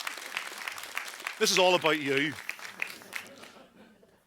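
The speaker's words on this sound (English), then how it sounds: "Give yourselves a round of applause." A theatre audience at the Lyric Theatre Belfast applauds in a dense wash of clapping while someone speaks over it, the clapping gradually thinning and fading away at the end.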